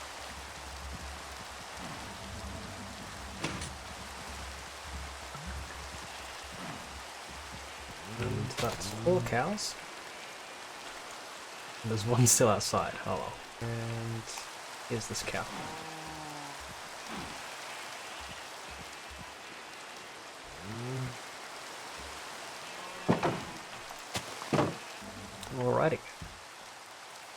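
Steady rain falls in a Minecraft farming world, a continuous soft hiss running the whole time beneath someone talking and scattered in-game noises such as cow sounds.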